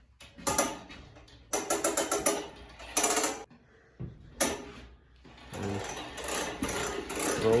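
A budget Porter Cable air compressor in a small shop gives off uneven bursts of mechanical clatter and rattling, loud and close, separated by brief quieter gaps.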